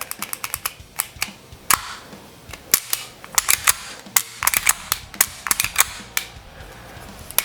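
Sharp metallic clicks from a pistol's trigger and slide during a function check after cleaning, arriving in quick irregular bursts, close and alone with no talking.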